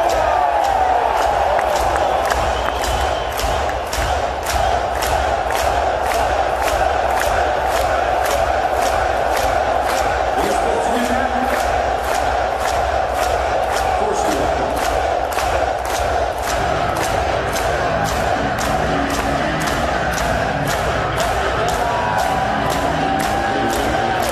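A large concert crowd at a show in London cheers and shouts in rhythm, a loud dense roar with regular sharp beats running through it, steady for over twenty seconds.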